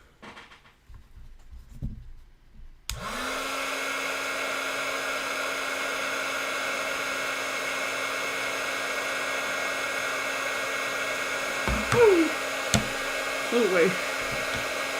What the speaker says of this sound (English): Let's try the embossing gun.